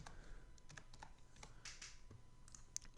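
Quick bursts of keystrokes on a computer keyboard, close and quiet, an uneven run of clicks across a few seconds with no talking.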